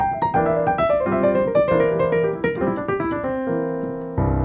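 Solo jazz piano running descending pentatonic four-note cells, a fast, continuous flurry of notes over a sustained low register, ending on a struck chord; close and clear with no voices.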